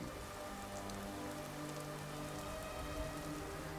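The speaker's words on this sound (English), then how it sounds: "I'm just really enjoying this light rain we've got here." Light, steady rain falling in the Skyrim video game, a soft, even patter that stays faint and unbroken, with no voices.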